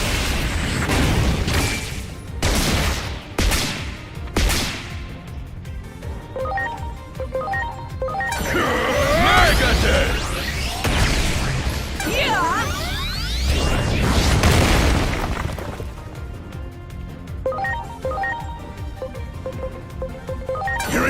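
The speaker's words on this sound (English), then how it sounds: "Here it comes! Terra Force!" Terra Force special attack in the video game Digimon Story Time Stranger: a loud, busy stretch of booming impacts, whooshes and crashing bursts over game music, with sweeping rising tones in the middle.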